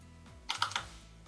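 A computer keyboard gives a quick burst of three or four key clicks, close and brief, over a low voice murmuring in the background.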